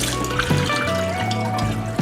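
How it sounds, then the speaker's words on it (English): Tap water running at full flow onto an N95 respirator mask, a loud, steady splashing rush with continuous watery bubbling and no voices. "Turn on the water high"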